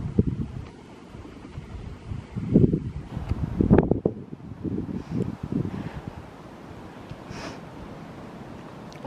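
Wind from a storm buffets the microphone in low rumbling gusts that swell and fade, with a rustling undertone.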